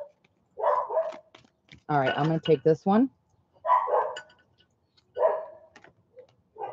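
Pet dogs barking indoors at home in several short bursts, close and fairly loud, alternating with a woman's speech.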